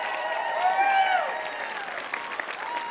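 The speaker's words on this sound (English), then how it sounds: "Would you guys please give a big round of applause to Adam?" An audience breaks into applause for a newly introduced personal assistant, a few seconds of steady clapping under a speaking voice.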